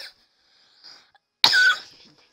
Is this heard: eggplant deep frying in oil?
no